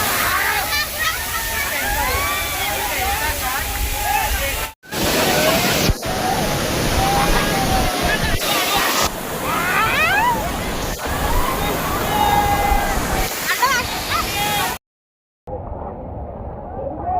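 A waterfall's broad, continuous roar and splashing water, loud and close, with voices talking over it and brief cuts in the sound.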